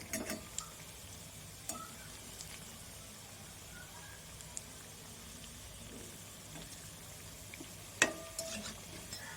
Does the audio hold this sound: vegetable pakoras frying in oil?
yes